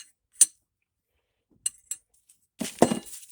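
A wrench and socket clink against a Mopar power steering pump during a rebuild, with a few sharp, isolated metallic taps spaced across near silence, followed by a louder cluster of clanks.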